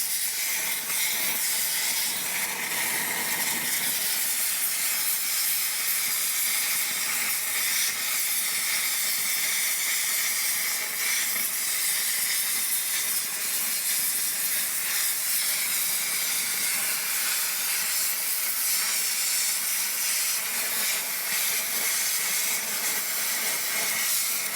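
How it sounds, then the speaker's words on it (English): Plasma cutter slicing through a rusted truck frame, a steady loud hissing roar that runs without a break for the whole stretch, close up with no talking. "I'm just using a plasma cutter"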